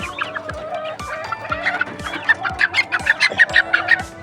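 Chickens and chicks that were once hit by fowl pox cluck repeatedly nearby, a busy stream of short calls that grows denser toward the end, over regular soft thumps roughly every half second.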